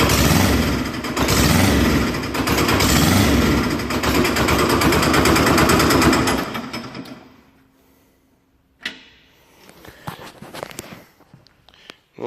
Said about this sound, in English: I'm gonna go for a couple cold revs